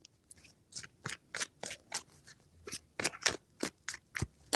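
Tarot cards are shuffled at close range in a quick series of crisp riffling bursts, about a dozen short papery rustles in an irregular rhythm, with no talking.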